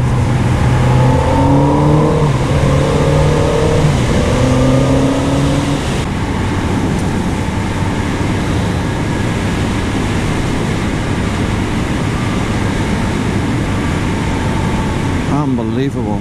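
Kawasaki Z900RS motorcycle cruising on a twisty road at around 90 km/h, a steady engine drone with gear-like pitch sweeps early on, under heavy wind rush and a rider talking.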